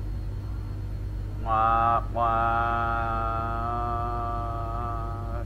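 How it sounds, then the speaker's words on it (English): Freight train horn in American Truck Simulator: a rich, sustained blast that breaks off briefly, then holds steady for several seconds over a constant low engine rumble, with a voice briefly heard. "look at that train. Let's just watch it go by."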